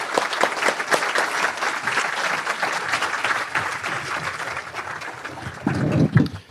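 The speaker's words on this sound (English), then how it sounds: "Let's give them all a round of applause." Audience applause for guests at a Rotary club meeting, a close room of steady clapping that thins toward the end, followed by a brief burst of louder nearby claps.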